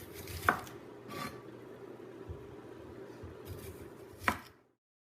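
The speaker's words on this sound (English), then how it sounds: "And then you need to cut up the onion." An onion being chopped with a knife on a board, a handful of sharp, irregular cuts, two louder strikes standing out, set against quiet kitchen background noise before the sound stops.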